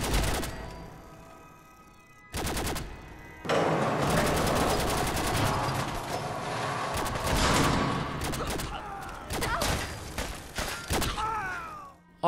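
Sustained automatic rifle fire from a modded gun in Fallout 4, loud dense bursts that cut in and out with short pauses, mixed with thuds and game sounds.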